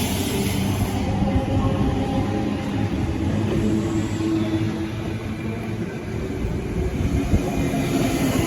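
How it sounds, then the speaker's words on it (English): A Sydney train arrives at Strathfield station, its steady rolling rumble and rail noise sustained throughout at moderate level, with no talk. "The next train to arrive on platform 7 goes to City Circle"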